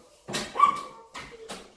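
A small dog gives a few short whimpering yips in bursts with pauses between, close by and moderately loud, with no talking.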